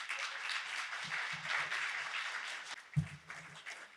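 An audience at an annual research meeting applauds in a fairly faint, continuous patter of clapping, with a few low voices breaking through underneath.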